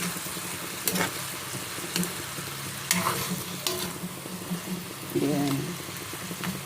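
Native chicken sautéing with green chili for tinola, a steady sizzle with repeated stirring scrapes and clinks in the pan, a voice speaking briefly over the cooking.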